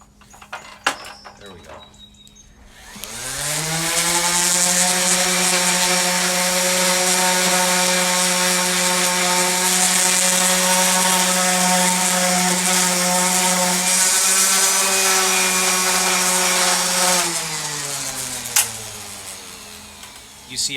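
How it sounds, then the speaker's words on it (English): An orbital sander runs on a wooden surface for about fifteen seconds, a loud steady whine with strong harmonics that spins up after a short pause and winds down at the end, alone without talk. "But the orbital sander is perfect for that."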